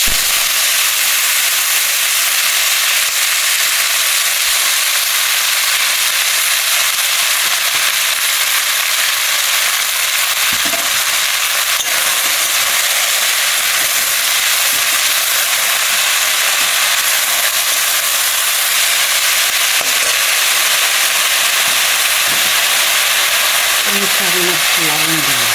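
Leafy red amaranth greens sizzle and hiss steadily in a hot pan with dried chillies, a dense, continuous frying noise that stays loud throughout.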